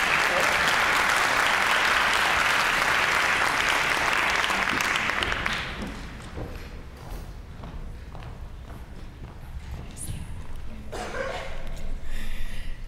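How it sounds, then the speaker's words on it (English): At a high school senior awards night, an audience applauds a scholarship winner loudly and densely for about five seconds. The clapping then thins to scattered claps, footsteps and shuffling, with some rising crowd noise near the end. "So let's give Sarah a round of applause."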